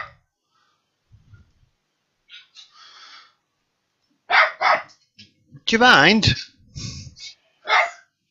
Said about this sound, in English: Dogs have just decided to go nuts.